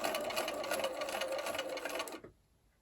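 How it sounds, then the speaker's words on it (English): A sewing machine stitching a quilt block for a sawtooth star, a fast, steady mechanical whir close by that runs for about two seconds and then stops abruptly. "And now I'm just going to watch right here as I sew."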